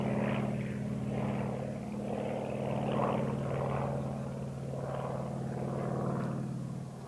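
A Zero fighter with a radial engine rolls overhead, its steady propeller drone holding a low tone with a gently swelling and fading roar, distant and continuous, with no voices.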